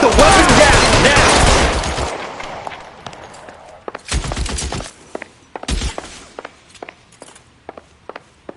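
Gunfire in the video game L.A. Noire: a loud sustained burst of shots for about two seconds, then sharp scattered single reports and thuds with echoing pauses between them.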